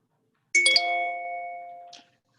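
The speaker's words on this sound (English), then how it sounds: "Richard is also ringing the bell" A single bell is struck once, ringing out clear and close with a bright metallic tone that sustains and fades over about a second and a half before stopping.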